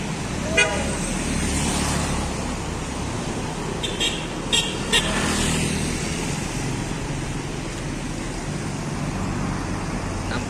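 An ANS Paskowis bus pulls out of its depot amid steady road and traffic noise, with a few short horn toots partway through, the vehicle sounding moderately distant.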